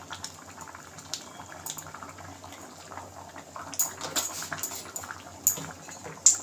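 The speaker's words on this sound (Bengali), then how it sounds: "আর একটু ফুটিয়ে নেব" A pot of lentil dal with ginger simmers on the stove, giving soft, uneven bubbling and popping with occasional light metallic clinks of utensils, quiet and close throughout.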